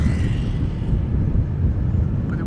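A low, steady roar of an airplane landing at Schiphol Airport, a continuous rumble heard from a distance without speech.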